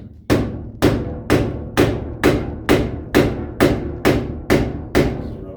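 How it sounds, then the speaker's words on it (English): A rubber mallet pounds on the engine cover of a Yamaha DT175 motorcycle, ten evenly spaced dull, loud thumps about half a second apart, each with a short ringing decay. "It's rubber mallet, rubber, you know."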